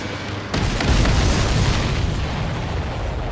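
Explosions go off in the Ace Combat 7 flight game, a loud sudden boom that then rolls on as a sustained heavy rumble with scattered bursts.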